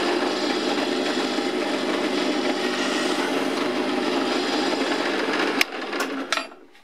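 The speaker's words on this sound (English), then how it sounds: "First, I'm going to drill through it with a 16th diameter drill." A drill with a 1/16-inch bit grinds steadily into metal on a live steam model locomotive part with a continuous high whirring rasp, then stops abruptly with a couple of short clicks and a brief final burst.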